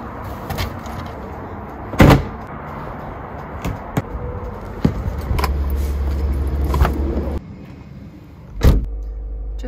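Someone climbs into a car on a morning errand: a few sharp door thumps and brief key jingles, then a steady low hum from the cabin, one more door slam, and a quiet, speech-free close.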